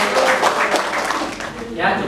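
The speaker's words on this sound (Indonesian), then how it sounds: "Tepuk tangan tuh." A classroom audience claps briefly after a student group's presentation, with steady mixed clapping and voices underneath throughout.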